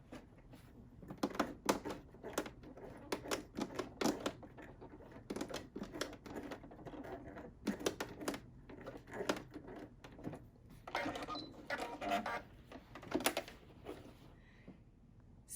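A sewing machine stitches a ripped bomber jacket in quiet, rapid mechanical bursts, starting and stopping repeatedly as the work is slowed by the hand wheel.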